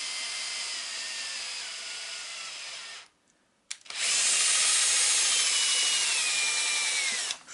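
A powered screwdriver turns a screw on a Traxxas UDR RC car in a loud, steady whirring drone, stopping briefly for a short pause before running again at full intensity and cutting off at the end.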